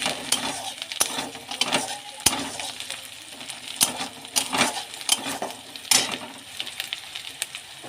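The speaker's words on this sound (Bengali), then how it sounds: "এখানে পেঁয়াজটা ভাজা হচ্ছে।" Onions frying in a kadai for a meat and peas curry, a steady crackling sizzle with scattered sharp clicks and taps of a utensil against the pan, close and fairly loud throughout.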